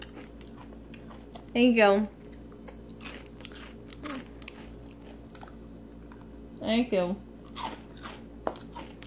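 A young girl bites and chews crunchy cinnamon snacks up close, two loud crunching bursts separated by quieter chewing, with an adult speaking softly between them.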